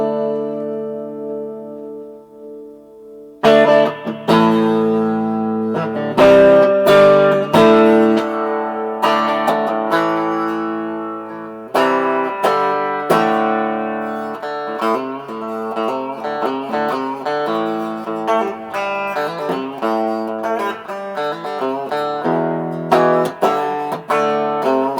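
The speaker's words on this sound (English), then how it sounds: "Quite a big reverb on it." A guitar through an amplifier plays loud sustained chords and notes, each ringing out with a long, big reverb tail that washes between strikes.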